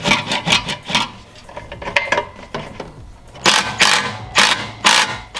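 Toyota Supra aftermarket exhaust being bolted to the downpipe and bracket with a 15 mm tool, giving bursts of quick, close ratchet clicks and metal rasping, with louder sharp clicking toward the end.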